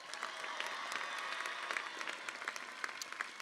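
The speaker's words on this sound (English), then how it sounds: "One more round of applause for the class of" A large audience claps steadily for the graduating class at a university spring commencement ceremony, a continuous wash of applause with sharper individual claps, heard from some distance and without speech.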